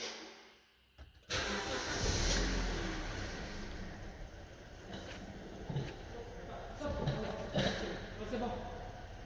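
A car engine cranks and catches after a repair, then settles into a steady idle that carries on under intermittent talk nearby.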